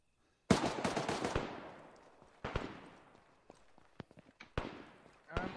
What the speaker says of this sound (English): More shots to the east.